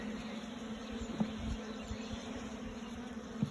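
Honeybees hang on the bars of an opened hive, giving a soft, steady buzzing hum that fills the short stretch. Faint handling knocks are heard close by.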